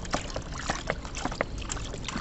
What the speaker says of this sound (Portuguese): Botando água pra eles beber.